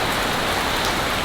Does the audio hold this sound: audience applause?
no